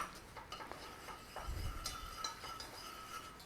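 A spoon stirs all-purpose flour in a pan for country gravy, giving soft, quiet scraping strokes and light metallic clinks in a short burst.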